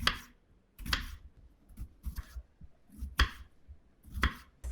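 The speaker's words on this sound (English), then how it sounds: "We'll also need 2 tomatoes. Slice them into rounds." Two tomatoes being sliced into rounds with a knife, a series of crisp, close chops in an uneven rhythm against a quiet background.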